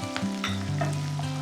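Chopped onion and carrot sizzle in a pan while pasta vegetables are cooked, a steady, fairly loud frying hiss with soft stirring scrapes and a low hum underneath, heard up close without talk.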